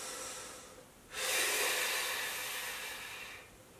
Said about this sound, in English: Let's take 2 big breaths here.